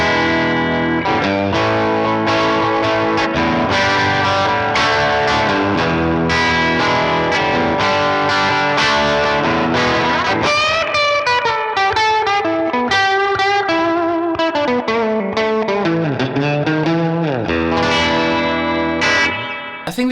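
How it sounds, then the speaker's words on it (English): An Enya Nova G electric guitar played through its built-in speaker with effects gives loud, distorted strummed chords and then wavering, echoing lead notes with heavy reverb and chorus, continuous with no talking. "I think the guitar sounds really good"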